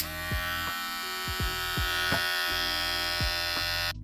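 A Tpob Play electric hair clipper buzzes with a steady motor hum, its pitch dipping briefly now and then before it cuts off at the end.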